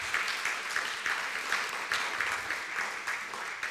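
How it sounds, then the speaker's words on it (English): Steady applause from an audience at a poetry reading, a dense wash of clapping that holds at an even level throughout with no voices over it. "can we have a round of applause for the current e-board?"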